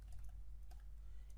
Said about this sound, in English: here I'm just typing the downloads